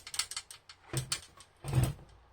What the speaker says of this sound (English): Just drive the screws down.